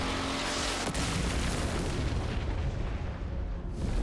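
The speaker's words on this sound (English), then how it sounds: "Oh, Mr. Gideon. Where'd you get that rocket launcher?" Heavy, sustained blast and rumbling roar from a rocket launcher in the video game Resident Evil Requiem, loud and dense with booming low end throughout, no talking.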